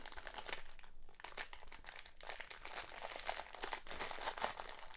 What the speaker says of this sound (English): so plastic black bag, and I'm gonna rip it open